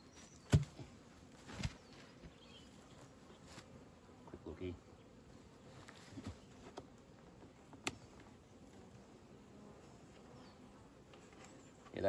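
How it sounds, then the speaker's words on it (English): Honey bees buzz in an opened hive during spring nucleus colony work, a faint continuous hum with occasional louder passes and light knocks from handling. "There's plenty of bees in there."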